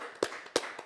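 Three sharp hand claps in quick, even succession, close and fairly soft in an otherwise quiet room.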